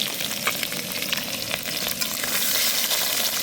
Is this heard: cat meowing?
no